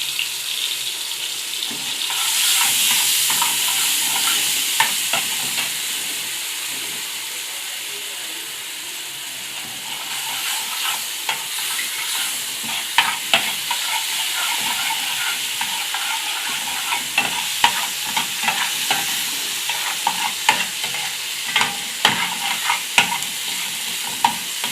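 Garlic ginger paste frying in a pan with a steady, loud sizzle, stirred repeatedly with scraping and clinking strokes that grow more frequent in the second half.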